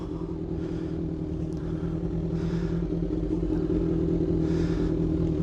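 A motorcycle weaves slowly through cones set three feet apart in a parking lot on clutch and throttle, a low steady engine drone with gentle rises in throttle, fairly quiet and without speech.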